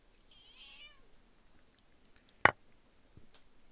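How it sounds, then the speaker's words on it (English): A pet cat meows once, fairly close but soft, a wavering call in a quiet room, followed later by a sharp click and a few faint taps. "What's the matter, streaming cat?"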